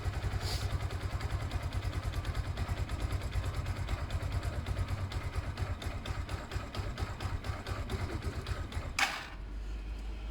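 A Zontes Mantis 125cc motorcycle idles with the choke on, its engine putting out a steady, fast, even chug close by before a brief sharp clatter near the end.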